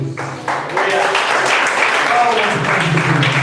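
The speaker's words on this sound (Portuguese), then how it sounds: "Palmas para Jesus." Church congregation clapping in praise of Jesus after a closing prayer in a Portuguese-language service, applause swelling in after a brief quieter opening and holding steady, with voices faintly mixed in.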